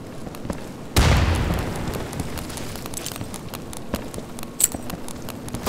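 A frag grenade in the shooter game Insurgency detonates with one loud, sudden boom whose rumble fades over a couple of seconds, followed by faint scattered footsteps and small clicks of in-game movement.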